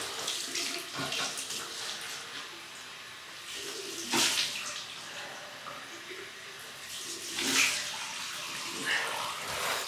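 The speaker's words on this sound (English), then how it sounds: "My cold water rinse." Water runs steadily from a tap, splashing with a few louder gushes as it flows, close by.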